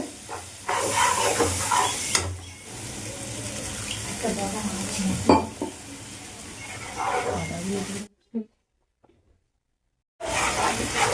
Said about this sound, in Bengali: গুঁড়ো মশলা আমি বেশি ভাজবো না তিতো হয়ে যাবে